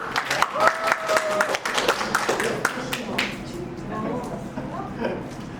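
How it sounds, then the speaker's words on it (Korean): Church congregation clapping for a guest singer, a few sharp scattered claps at first that thin out, followed by voices talking. "박수 한번 해주세요."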